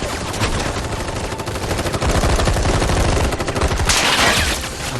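Dense, continuous automatic gunfire from an army rattles in Final Fantasy VII Rebirth, a loud and sustained barrage of rapid shots with a brighter burst near the end.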